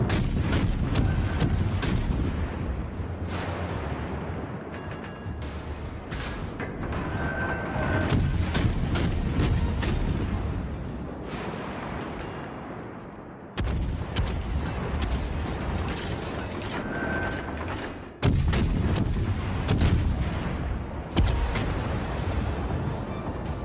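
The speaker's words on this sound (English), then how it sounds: "Enemy destroyer blown up." An enemy destroyer blows up in a naval battle of 1891 involving the Almirante Lynch. Loud booming blasts and bursts of gunfire ring out over mechanical clanking and creaking, with sharp abrupt hits recurring through a long stretch.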